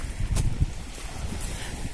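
Wind gusting along the Adriatic seashore at Kačjak, Croatia, on a spring walk: a steady low rumble of microphone buffeting with a couple of stronger bursts, no voices.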